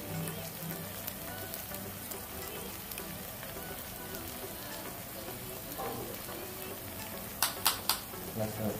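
Ginger garlic paste frying in a pan for Chettinad chicken curry, a faint continuous sizzle with a few sharp clatters of a spoon near the end.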